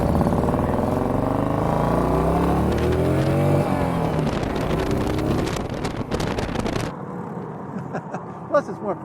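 Engine of a Morgan three-wheeler revving hard while driving, a loud sustained roar with rising pitch and wind buffeting, then an abrupt drop to a quieter idle near the end.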